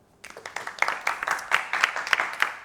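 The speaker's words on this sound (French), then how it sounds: "Merci aux participants, applaudissez-vous." A small group claps for the participants of a talk show, sparse, distinct hand claps fading in quickly and continuing at moderate level with audible individual strikes.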